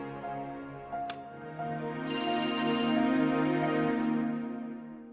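A telephone rings with a bright electronic tone over a steady musical background, the ring lasting about a second, fairly loud and close.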